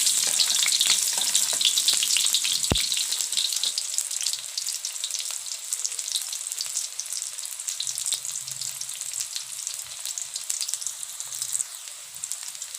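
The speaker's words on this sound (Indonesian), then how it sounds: "Tapi kita tumis terlebih dahulu bawang merah, bawang putihnya ya." Shallots and garlic sauté in hot oil in a wok, giving a continuous bright sizzle with occasional stirring clatter. The sizzle is loudest at first, then settles to a steady hiss.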